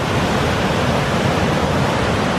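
A waterfall beside a mountain cabin getaway pours steadily, a dense, loud, unbroken rushing wash of water that fills the whole stretch with no pauses.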